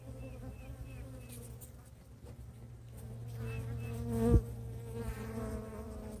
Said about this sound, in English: So I just took off that frame from the front, as you know. Do you see them fanning?